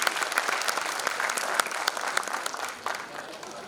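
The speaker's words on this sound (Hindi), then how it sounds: "एक बार जोरदार तालियां मंत्री जी के लिए।" An audience at an event honoring a government minister claps in a sustained round of applause, dense and even, with scattered sharper claps standing out.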